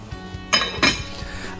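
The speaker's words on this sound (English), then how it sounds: "Take the lid off and stir again." A lid lifts off a pot of matar paneer halloumi curry with tomatoes, giving two loud metallic clinks, followed by lighter scraping and tapping of a spoon stirring inside the pot.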